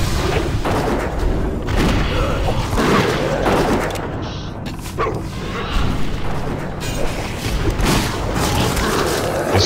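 Repeated gunfire in World of Warcraft, a dense run of loud booming shots and crashes that goes on throughout, with brief spoken remarks in between.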